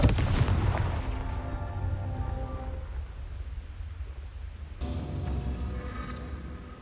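In the video game Hogwarts Legacy, a Confringo blast spell goes off with a loud, booming explosion that rumbles and decays, then a second blast bursts out a few seconds later.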